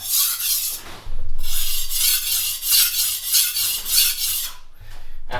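A chef's knife with a broken tip grinds against a coarse sharpening stone in steady, close rasping strokes, a continuous gritty scraping that pauses briefly near the start and end.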